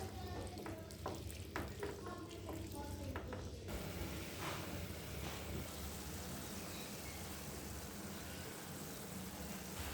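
Small mixed fish cooking in a pan with ground cumin and spices, a soft sizzle under scattered clinks and a voice speaking in the first few seconds, then a steady faint frying hiss.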